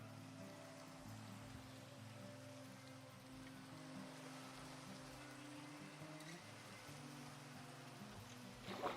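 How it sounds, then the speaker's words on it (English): Steady Minecraft rain hisses as an even, continuous wash alone, with soft low game tones underneath and a brief brighter patter near the end. "Why don't I just go out into the rain?"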